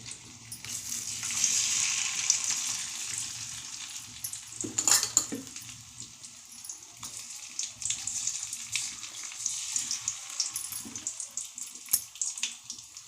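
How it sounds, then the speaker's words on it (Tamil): Onion and cauliflower 65 pieces deep fry in oil with a continuous bubbling sizzle, with a few louder splashing and stirring bursts, close and steady throughout with no talking. "இப்போ இது இப்படி நல்லா எண்ணெயை போட்டு பொறிச்சு எடுத்துக்கலாம்"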